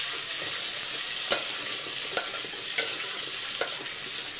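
Pumpkin pieces with the skin left on sauté in oil with curry leaves, a dense continuous hiss of frying, close and steady, broken by a few light stirring taps, with no voices.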